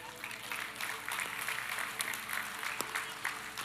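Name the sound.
audience applause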